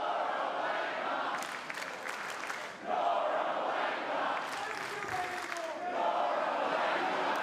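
A wrestling crowd at a live show in Sydney reacts to Ryan Nemeth with continuous loud jeering and chanting from a large arena audience, with scattered shouts and claps throughout.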